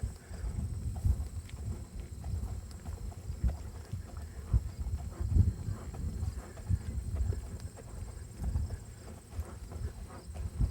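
A horse walks around an arena, its hooves giving soft, steady low thuds in an even rhythm with faint wind noise and no talking.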